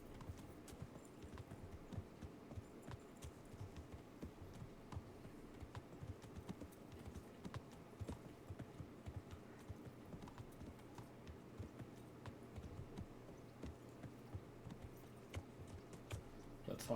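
Horse hooves clip-clop at a steady walking rhythm through a medieval video game world, a continuous patter of soft thuds over low ambient hum, with no talking.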